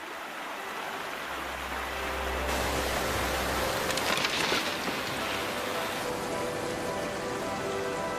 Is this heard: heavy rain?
yes